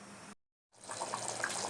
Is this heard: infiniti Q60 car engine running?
no